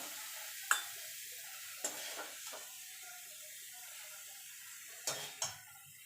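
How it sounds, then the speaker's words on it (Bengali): Banana stem paste (thor bata) being stirred in a pan: a few sharp scrapes and knocks of the spatula against the pan stand out over a quiet, faint background. "এবার ভালো করে নেড়ে নেবো কারণ কড়ার থেকে ছেড়ে আসতে মানে হয়ে গেছে"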